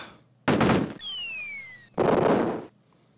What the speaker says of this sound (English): Yes, exploding snowman.